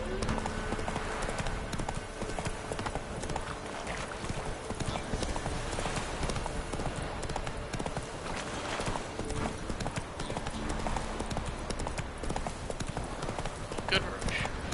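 Hoofbeats of Roach, Geralt's horse in the video game The Witcher III: Wild Hunt, clip-clop steadily along a road in Velen, set against game music and ambience, with a voice talking at times.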